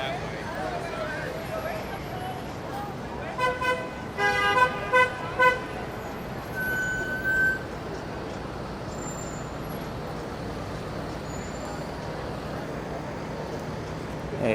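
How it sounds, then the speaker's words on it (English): Midtown Manhattan street traffic at night hums steadily as a cluster of car horns honks in short, repeated toots for a few seconds, with people talking over the roar. "Tons of traffic tonight."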